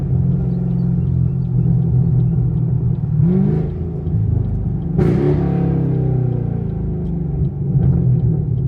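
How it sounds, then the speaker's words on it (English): A catless 500 hp Camaro SS rumbles steadily at low revs on a city street, with a couple of brief exhaust pops and burbles breaking through the loud, close drone. "Y'all hear them burbles though, chat?"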